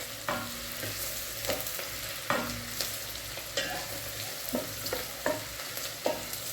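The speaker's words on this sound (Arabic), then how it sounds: "نخليو البصل شويه دوب ما يبدا البصل يذبل ويتبدل لونه." Chopped onions sizzling in a pan as they soften and change colour, stirred with repeated scraping strokes every second or so over a steady close frying hiss.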